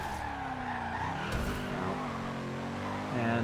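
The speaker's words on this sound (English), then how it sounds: "We are right now in the Bugatti." Bugatti Veyron in the racing game Forza Horizon 2, engine droning steadily throughout with a brief tire skid partway, the tone rising slightly toward the end, heard alone without talk.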